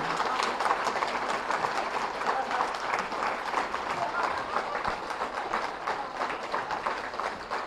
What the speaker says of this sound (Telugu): గట్టిగా చప్పట్లు కొట్టుకుందాం మన కోసం మనం